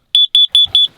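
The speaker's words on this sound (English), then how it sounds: "I also have a little carbon monoxide alarm. Let's test it out, make sure it's still on." A small carbon monoxide alarm being tested inside a camping truck during a winter blizzard emits four sharp, loud, high-pitched beeps in quick, even succession.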